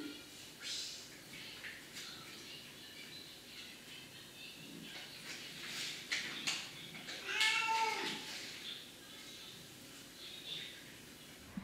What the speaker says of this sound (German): Mimi miaut und als Belohnung geben sie ihr einen Keks